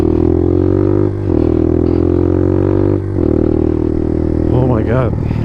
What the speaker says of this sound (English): I'm riding the DR200.